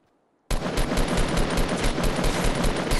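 Automatic gunfire in a Fortnite match starts abruptly after a brief silence, a loud, rapid stream of shots rattling on steadily for over two seconds at close range.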